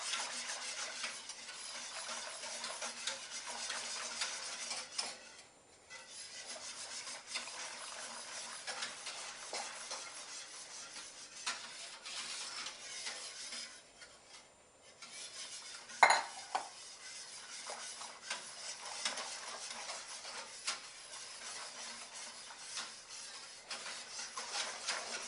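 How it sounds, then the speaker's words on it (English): Skim milk powder being whisked into milk for homemade oven yogurt: a steady, fairly quiet scrape and clatter of a whisk against a bowl, with a few short pauses and one brief sharper knock, no talking. "So what you do is you whisk in the skim milk powder."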